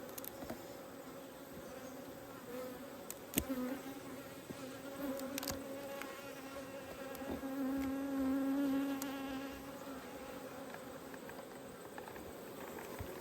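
Honeybees buzz steadily around an open hive of a healthy nucleus colony, a fairly quiet, even insect hum that swells briefly near the middle, with no talking.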